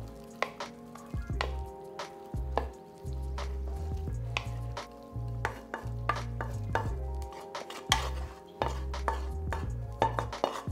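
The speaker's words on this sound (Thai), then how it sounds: "เทข้าวส่วนผสมทั้งหมดลงไปในหม้อหุงข้าวเลยนะครับ" A tomato rice mixture is poured and stirred into a rice cooker pot, giving scattered utensil scrapes and clinks under steady background music.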